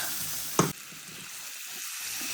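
Turmeric, garlic, chili and salt spice paste sizzling in hot oil for a rui fish do-peyaji, a steady frying hiss with one brief louder crackle burst early on, no voices.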